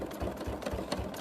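A sewing machine runs steadily during free motion quilting on fabric, its rapid rhythmic needle thumps repeating close and even at moderate volume, with no voices.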